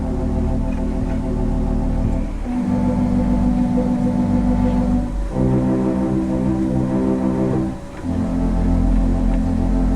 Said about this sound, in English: And the dotted pedal pattern is what I call the fish and chip rhythm.